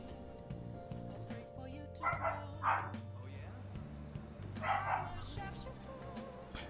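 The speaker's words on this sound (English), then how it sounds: "Apologies for dogs barking." Two pet dogs, one of them a female in heat, bark and yip at home in several bursts, a little distant, behind steady background sound from a Persona 5 game session.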